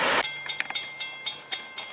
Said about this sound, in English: There it goes, another train.